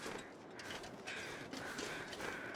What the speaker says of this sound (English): I heard the carrion crows